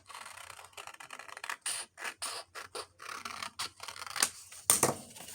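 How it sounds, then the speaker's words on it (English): Scissors trimming the edge of a sheet of paper for a junk journal: a run of crisp snips and rustling paper scrapes, close and moderately loud, with no voices. "I think what I'll do is cut a little bit off the edge of this here"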